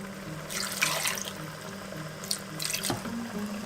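Water running and splashing into a wok during cooking of Manadonese spicy chicken, a steady soft pouring with a few louder splashy bursts, fairly faint and close, with no talking.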